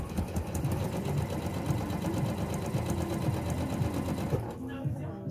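A sewing machine stitches pieced quilt blocks together, a steady close mechanical whirr with a fast rhythmic needle chatter running continuously, briefly softening at the end.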